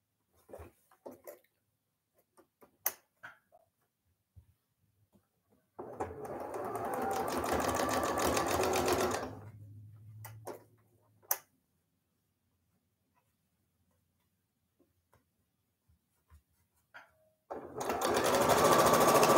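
A sewing machine chain pieces quilt blocks for a pinwheel sawtooth star, running in two steady whirring bursts, close and fairly loud, separated by quiet stretches with faint clicks and handling sounds.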